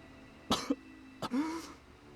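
Two sharp coughs about three-quarters of a second apart, close and fairly loud, followed by a breathy, rasping exhale.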